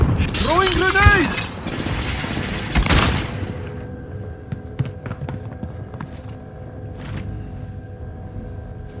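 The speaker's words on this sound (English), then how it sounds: "Throwing grenade." A grenade goes off in Call of Duty Warzone with a loud, close burst and a crackling, shattering debris tail during the first three seconds. Quieter game sounds continue after it, and a voice is heard.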